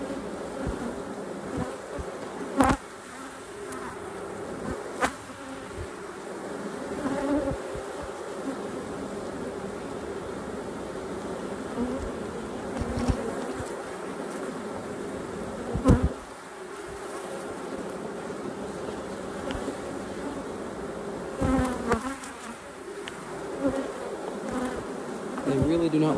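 Honeybees swarm and buzz steadily at close range during a sugar roll mite check in a bee yard, a dense continuous drone with a few sharp knocks and handling clicks, no talking.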